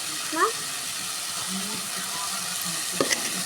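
Chicken pieces dropped into hot, sizzling oil in a pan, giving a steady frying hiss with a few scrapes and clinks of utensils near the start and end.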